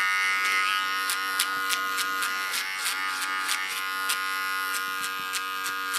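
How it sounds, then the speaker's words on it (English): A small electric hair clipper buzzes steadily up close while trimming a neckline, its hum broken by faint regular clicks as it moves over the hair, with no talk. "Use my small clipper even as a comb, but so I don't get hard lines in this neckline."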